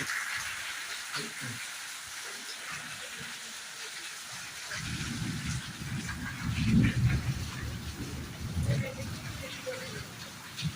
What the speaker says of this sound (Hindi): देखो तो केड़े जोर से वर्षा है